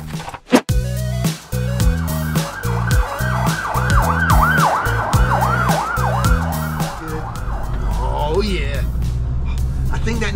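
An ambulance siren wails in a steady repeating up-and-down pattern during a test drive, loud and close, with engine rumble and clunks underneath and brief talk near the start.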